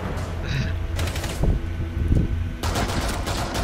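Gunfire in Rainbow Six Siege, close and loud, coming in quick bursts of sharp shots with a few brief pauses and a player talking faintly underneath.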